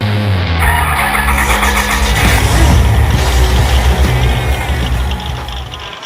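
A vehicle engine roars and revs hard close by, loud and continuous, with a rising pitch and a gritty skidding, tire-scrubbing rush before it eases off slightly at the end.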